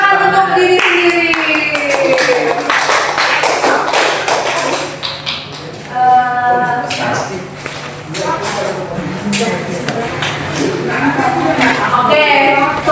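A school class claps for itself during a history lesson, a loud, close-up round of mixed clapping and tapping that carries on the whole time, with raised voices and cheering mixed in.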